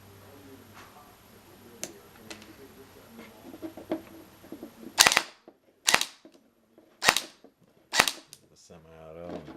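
An airsoft HK G36C derp gun fires semi-auto, four loud, sharp, evenly spaced cracks after softer handling clicks, close and clear.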